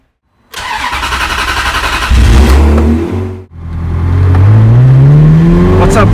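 A Ferrari 360 Spider engine starts with a sharp burst, settles into a steady idle, then blips louder and revs up, briefly dips, and climbs again in rising revs, close and loud with no talking.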